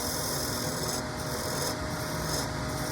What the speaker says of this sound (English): if you have a sharp tool handy, a sharp spindle gouge, now you get it.